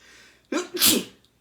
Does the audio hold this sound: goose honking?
no